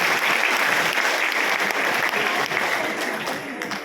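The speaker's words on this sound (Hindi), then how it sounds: "एक बार जोरदार तालियां बजाएं।" An audience at an RCM business meeting applauds warmly, a dense, continuous wash of clapping from a crowded hall that holds steady and then tapers slightly.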